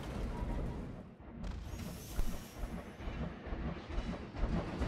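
A coaster train in the Planet Coaster game rumbles steadily along its track, with a dense rolling clatter and low roar that stays loud and continuous, without talk.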